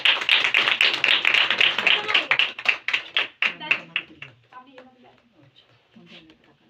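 Audience clapping at a Christmas worship gathering, a dense burst of hand claps that thins into scattered individual claps before fading, with faint voices underneath.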